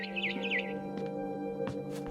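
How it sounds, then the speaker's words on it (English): Barn swallow chirping in What Remains of Edith Finch, a quick series of faint, bright twittering calls, followed by a couple of brief soft rustles. "It was a barn swallow going back to her nest."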